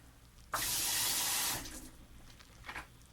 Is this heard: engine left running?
no